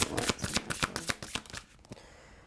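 Rapid, crisp riffling of tarot or oracle cards being shuffled, a fast fluttering burst for about two seconds that then trails off into quieter handling.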